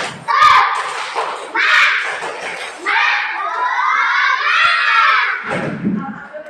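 A second-grade elementary class of children loudly shouts a rhythmic spirit-clapping chant, with claps and thumps mixed into several energetic bursts of young voices.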